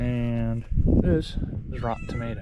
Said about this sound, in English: and that's a cat.